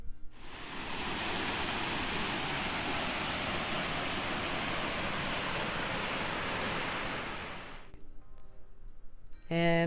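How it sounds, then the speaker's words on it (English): Steady broadband rush of Dalton Falls on Tasmania's Overland Track, constant and full for most of the clip before cutting to quieter sounds near the end. "This falls here are the Dalton Falls."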